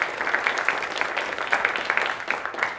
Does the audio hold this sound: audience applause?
yes